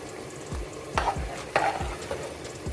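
Rice is stirred into biryani in a pot, a soft sizzle underneath and a few scraping strokes of a spoon against the pot at an unhurried, uneven rhythm, close and fairly quiet, with no voices.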